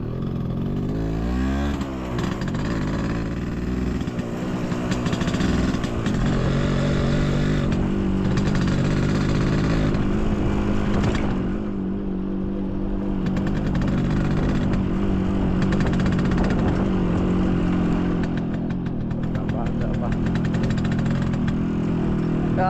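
A single motorcycle ridden in the rural Philippines, heard close up as a loud, continuous engine drone with wind rush that holds steady throughout the ride.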